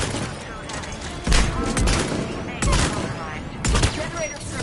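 A turret in the video game Mass Effect 3 fires sustained bursts of gunfire, with three heavy booming volleys that punch through a dense crackle of shots, while game voices talk underneath.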